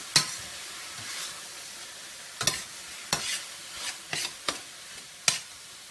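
Tomatoes stirred into meat in a hot pan, with a faint background sizzle punctuated by a series of sharp, irregular scraping and knocking strokes from the stirring, each spaced a second or so apart.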